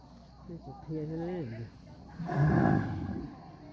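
A water buffalo lowing close by, one long wavering call followed by a louder, rougher bellow, with people talking quietly in the background.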